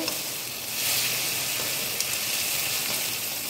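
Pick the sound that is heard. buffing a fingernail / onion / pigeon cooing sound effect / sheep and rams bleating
onion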